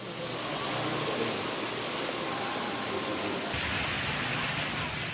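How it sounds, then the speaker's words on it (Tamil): Rain falls heavily and steadily in Tamil Nadu during a sudden evening shower, a dense, even hiss of drops on surfaces that fills the whole stretch without any voices. "மாலை திடீரென கருமேகங்கள் கூடி மழை பொழிந்தது"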